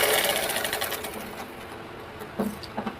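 A sewing machine stitches the lining of a blouse in a fast, steady whirring run that tapers off, followed by a couple of short bursts, heard up close with no talk.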